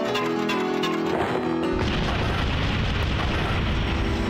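A cannonball explodes in a video game: a sudden loud blast cuts in after a short musical stretch and gives way to a sustained, noisy rumbling roar that lasts to the end.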